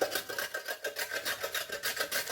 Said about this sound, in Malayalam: അത് ഇതിലേക്കൊന്ന് ഗ്രേറ്റ് ചെയ്തിട്ട് കൊടുക്കാം.